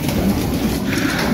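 Pigeons in a racing loft, a continuous low cooing chorus close by after a typhoon, dense and steady throughout.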